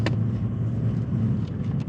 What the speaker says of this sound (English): Couple cars waiting to go there.